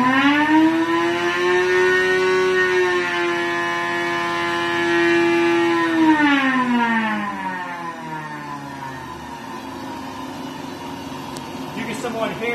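A blower motor runs on a quality-control test stand, its strong tonal whine holding steady and then sliding down in pitch as the RPM drops. Loud and close, with faint clicks near the end.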